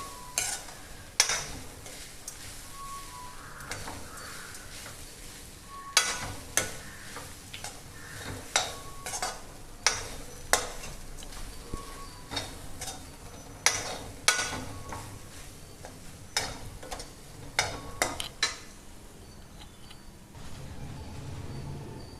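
Grated coconut is stirred and sautéed in a pan, with a spoon scraping and tapping against the metal in irregular clattering strokes over a faint, quiet sizzle.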